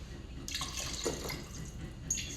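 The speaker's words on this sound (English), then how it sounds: "So add a little more water to this." Water is poured into a pot of soup in a home kitchen, heard as a few soft, close splashes and trickles over a quiet background.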